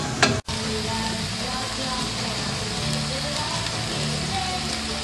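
Tomatoes, egg and cheese frying over high heat in a pan, a steady dense sizzle that holds at an even level throughout, with one brief clatter near the start.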